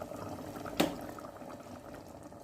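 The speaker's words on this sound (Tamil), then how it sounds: "இப்போ நம்ம எப்படி கொதிச்சுட்டு இருக்குது" Chicken curry made with coconut milk bubbles quietly in a pot, a soft, steady simmer with one brief louder pop partway through.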